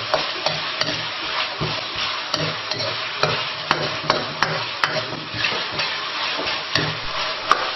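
Chili peppers are stir-fried in a wok for a spicy beef sauce, with a continuous sizzle punctuated by repeated sharp clacks and scrapes of the spatula against the metal, and no talking.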